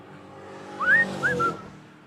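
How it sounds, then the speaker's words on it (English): A person whistles a short, bright good-morning call of a few rising and falling notes, close and clear over quiet room tone. "Nice good whistle for the morning there just to say good morning."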